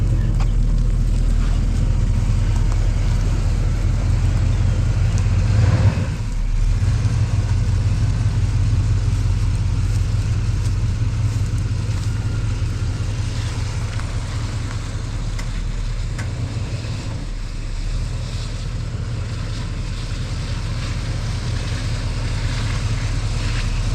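A 1986 Chevy Caprice Super Stepside truck drives along with a steady, loud low engine drone and road rumble, easing briefly around the one-quarter mark before continuing evenly, no one speaking.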